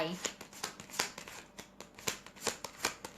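Fortune-telling cards being shuffled and drawn during a live reading, a quick series of crisp riffling flicks and snaps close up, with a voice speaking intermittently.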